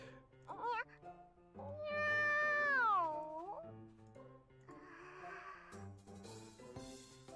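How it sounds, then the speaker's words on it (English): A cat meows in the video game Nekopara, several distinct meows with one long drawn-out wavering call in the middle, clear and close over quiet background music. "Oh, it's just a cat. Just a troublesome cat."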